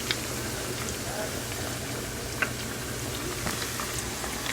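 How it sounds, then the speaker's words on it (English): Oil sizzles and bubbles steadily with chicken wings frying in it, a constant crackling hiss dotted with a few sharp pops. "It takes a little while to fry these, especially if you're frying that much."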